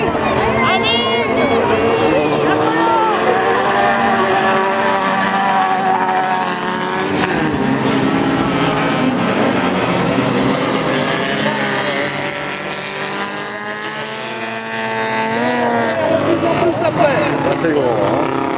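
Autocross race cars including a Peugeot 205 racing at Brée, engines revving and changing pitch continuously, loud and steady under excited French commentary throughout.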